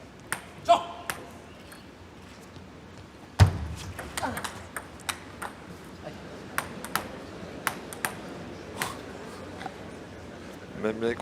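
A table tennis rally between two brothers, with crisp ball pings on bats and table ticking along in an irregular rhythm while a commentator talks over the play.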